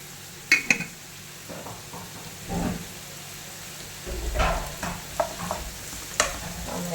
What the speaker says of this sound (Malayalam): എല്ലാം കൂടി നന്നായിട്ടൊന്ന് മിക്സ് ചെയ്യാം